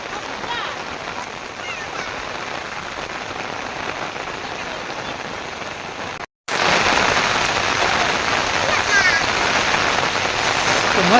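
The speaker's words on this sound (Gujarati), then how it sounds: "વરસાદ ચાલુ છે" Rain falls steadily in a Gujarati village, a dense hiss of drops on surfaces that stays loud and constant, broken by a brief cut of silence midway.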